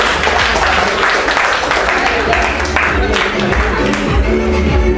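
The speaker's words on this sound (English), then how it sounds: "Please clap for them." An audience at a travel quiz claps loudly and continuously, with some cheering and voices mixed into the dense clapping throughout.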